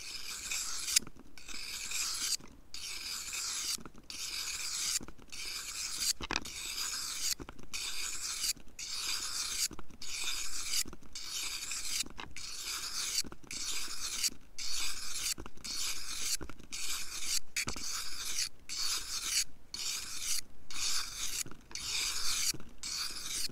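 A knife blade scrapes over a whetstone in steady, repeated strokes, each rasping pass separated by a brief pause, close and fairly loud throughout with no talking.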